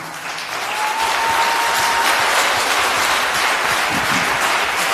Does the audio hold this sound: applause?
yes